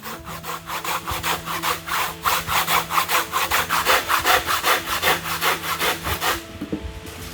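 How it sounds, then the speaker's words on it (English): Handsaw cutting through a wooden board for a pillar, a run of steady, rhythmic rasping strokes close by, about three per second, ending with a few quieter scrapes. "I won't make a mistake if I place the handsaw on the board when cutting the pillar."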